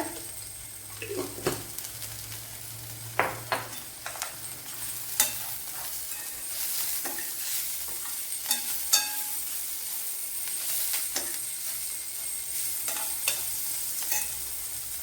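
Cumin seeds sizzle in hot oil for cauliflower thoran, a quiet, steady fizz broken by irregular, sharp scrapes and clicks of a spoon stirring in the pan.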